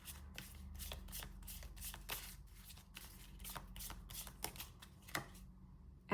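Tarot cards shuffled and laid out by hand, a close, steady run of quick crisp riffles and flicks, with no talking over them.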